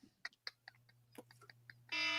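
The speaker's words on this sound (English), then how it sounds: "there's my alarm" A steady electronic alarm tone starts abruptly near the end and holds loud and continuous, following a few faint clicks and taps.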